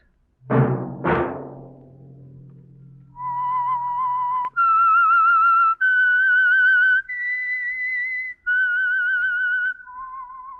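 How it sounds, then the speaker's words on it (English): A man whistles the eerie theme of The Whistler radio program: two sharp opening footsteps or knocks, then a slow, clear melody of sustained whistled notes, loud and alone. "Let that whistle be your signal for the Signal Oil program, The Whistler."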